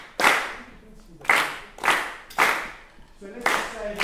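Audience members at a keynote clap in unison, six crisp group claps spaced roughly evenly at about half-second to one-second intervals, with faint voices between beats.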